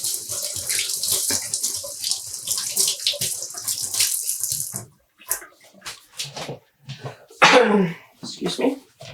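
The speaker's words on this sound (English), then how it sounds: "I'm going to rinse my gloves a little so not to contaminate the next color" Tap water runs steadily over dyeing gloves being rinsed at a sink, a close hissing stream that stops partway, followed by a person talking and a brief cough or sneeze.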